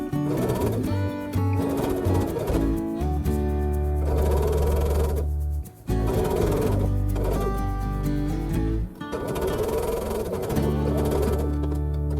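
A sewing machine stitches a Christmas sampler quilt block, running in steady humming bursts with a rapid mechanical rhythm, pausing briefly twice before starting again, close and loud with no talking.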